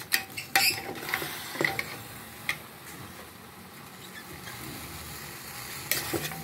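Oxtail sautéing in a pot for kare-kare gives a steady low sizzle, broken by a few sharp clinks and scrapes of stirring near the start and again toward the end, with no talk.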